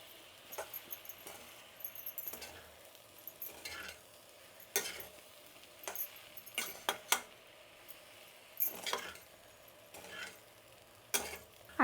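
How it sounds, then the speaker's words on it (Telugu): A spoon stirs uggani with lemon juice and coriander in a pan, giving quiet, irregular scraping and clinking strikes that come in bursts under a soft background hiss, with no talk. "ఇప్పుడు బాగా మిక్స్ చేద్దామండి"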